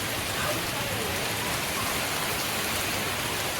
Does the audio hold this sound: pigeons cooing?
no